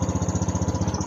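A Honda BEAT fi scooter engine running just after a fuel filter change, a close, loud, fast even putter with a steady pulsing beat, heard alone.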